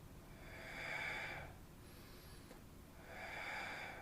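Slow, airy breaths during a Pilates leg exercise, a long exhale swelling and fading, a brief pause, then another breath building, close and soft against steady room hiss with no talk.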